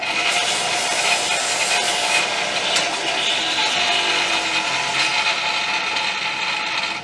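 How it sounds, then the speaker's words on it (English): A Scotch-Brite pad scrubs the trimmed end of a brass pin on a Kibler colonial flintlock rifle kit, producing a continuous close, bright abrasive rubbing that carries on alone and evenly. "I just clean that up with a little bit of Scotch-Brite"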